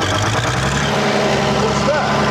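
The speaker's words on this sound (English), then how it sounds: "It's a Leyland engine, and it's a British generator unit as well" A British Leyland engine on a generator unit runs loud and close with a steady low rumble and rattle, with no clear start from rest, and a voice talks faintly over it.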